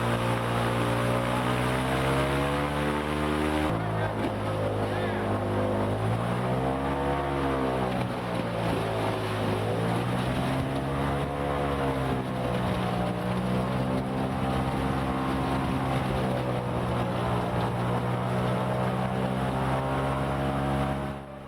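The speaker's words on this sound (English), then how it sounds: "it was decided to use the airboat to break the remaining ice from the snowmobile to shore" An airboat breaking up lake ice to clear a path from a stuck snowmobile to shore on a frozen lake, its engine and propeller roaring loud and steady throughout with shifting pitch as it works, no talk.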